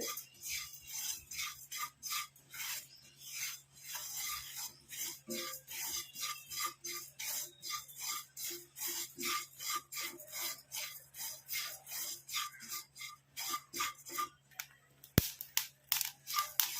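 A coffee powder mixture is stirred and dry-roasted in a pan, giving a quiet, steady rhythm of scraping strokes close by and one sharp clink near the end.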